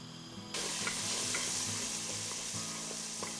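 Flour roasts in a hot pan for chicken trotter soup, giving a close, steady sizzle that starts abruptly and continues with faint stirring scrapes.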